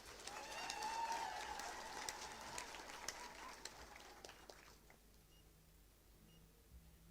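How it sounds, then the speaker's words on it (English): An audience applauds graduates at a university graduation ceremony, a faint distant wash of clapping that swells briefly and then fades away to near quiet over several seconds. "you deserve a big round of applause"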